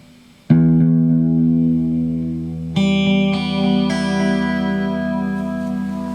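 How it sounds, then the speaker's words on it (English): A guitar string is plucked through the echo effect of a Roland GR-55 guitar synthesizer, one loud note that rings and sustains, then is struck again twice as the repeats layer into a dense, shimmering tone. "I can get my pure guitar signal through the echo. And I'll play the string again."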